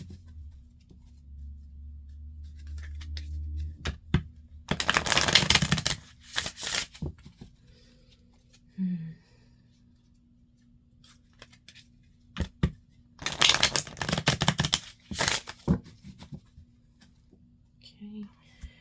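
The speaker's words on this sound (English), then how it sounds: "Okay, cutting the deck." A deck of tarot cards being cut and handled during a reading: two bursts of crisp papery shuffling and riffling, with softer card taps and rustles between them and quiet spoken remarks.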